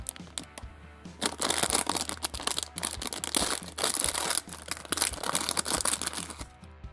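A Turbo rally toy car packet is torn open up close, with loud, continuous plastic crinkling and crackling in bursts and short pauses.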